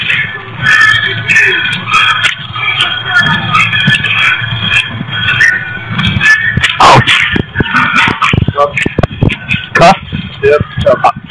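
A police K9 dog during an arrest in Utah, biting a suspect: yips and whimpering mixed with scuffling and sharp bursts, under almost constant urgent talk from several people.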